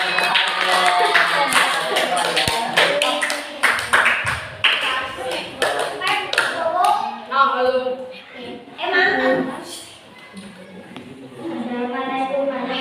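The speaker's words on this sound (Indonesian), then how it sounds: "Dipersilahkan tepuk tangan." Classroom applause after a sixth-grade student's speech practice, a burst of many hands clapping near and loud, mixed with voices and fading into speech.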